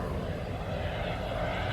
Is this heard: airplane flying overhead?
yes